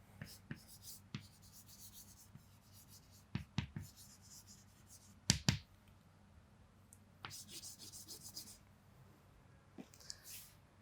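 A marker or chalk writes on a board in a classroom lesson, with short scratchy strokes in uneven bursts. The strokes are close and clear against a quiet room with a low hum.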